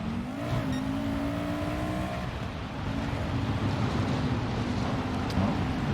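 Audi race car engines in Gran Turismo Sport drone steadily at high revs, with a rising and falling engine pitch and a continuous loud roar with no break.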